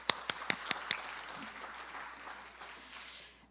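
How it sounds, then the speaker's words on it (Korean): Audience at an agriculture symposium gives a round of applause, with a few sharp nearby claps at the start over a softer, more distant wash of clapping that tapers off after a few seconds. "다시 한번 큰 박수로 시작하겠습니다."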